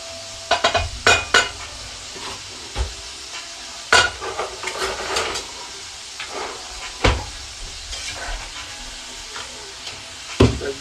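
Small-diced onions sizzle in a pan while being stirred, with close clattering scrapes and knocks of utensil against cookware over a soft frying hiss.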